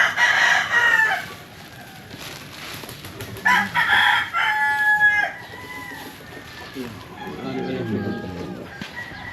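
Roosters and smaller young cocks crowing at a farmyard, several loud drawn-out crows in turn with some clucking between them, close by, while people talk nearby.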